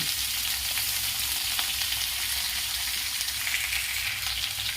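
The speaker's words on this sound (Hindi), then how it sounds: "इसे बिल्कुल अच्छी तरह फ्राई करूंगी।" Mixed vegetables for a curry fry in a pan, a loud, steady close sizzle that hisses continuously throughout.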